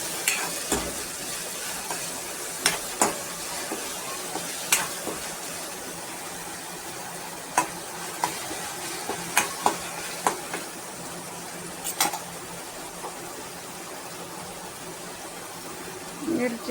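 Green chilies frying in a pan for a dill leaf vegetable dish, a steady soft sizzle at moderate level with occasional stirring clicks and scrapes spread through.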